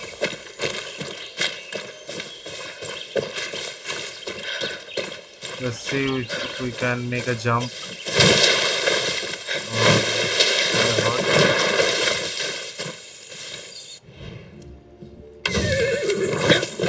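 A horse in the video game Far Cry 6 whinnies and gallops, with rhythmic hoofbeats and a clear neigh mixed among game effects and music while a player talks over it.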